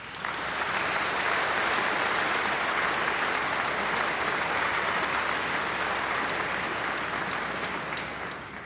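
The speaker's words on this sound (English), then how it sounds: "let's give a massive round of applause and huge cheer to say thank you to all of your supporters" A large graduation congregation audience delivers a long, steady round of applause, dense and even throughout, filling the hall at full strength for several seconds before easing off slightly at the end.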